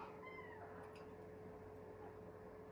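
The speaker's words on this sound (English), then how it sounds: "there's a cat." A cat meows a few faint, brief times indoors, over a steady background hum and a constant high tone.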